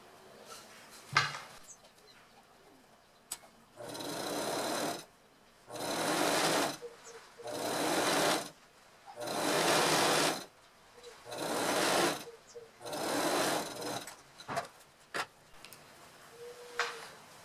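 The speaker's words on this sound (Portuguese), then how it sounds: "vou passar uma costura de pé de máquina" A sewing machine runs a straight seam through fabric for a presser-foot stitch, in about six loud bursts of steady whirring, each a second or two long, separated by short pauses with faint handling clicks.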